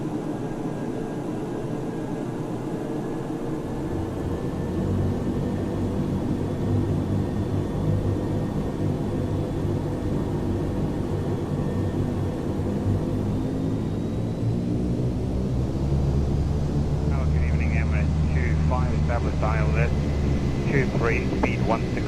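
An aircraft engine in Microsoft Flight Simulator X throttles up, giving a steady, loud droning rumble whose pitch rises gradually, with someone talking over it and radio-style chatter toward the end.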